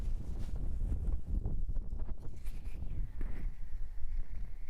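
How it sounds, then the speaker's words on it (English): Wind gusts buffet a microphone outdoors, a close, rumbling, uneven roar that swells and eases for several seconds with no other clear sound. "all you can hear is wind now"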